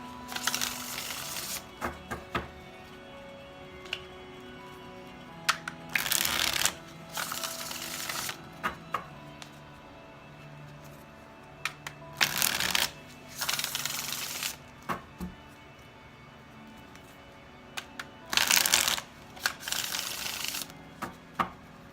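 Tarot cards being shuffled in several separate bursts with quiet pauses between them, close and crisp, with no talking.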